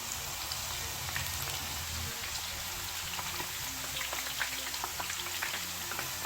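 Tapioca chips deep-frying in hot oil: a continuous dense crackling sizzle with scattered small pops, steady and close, with no one talking.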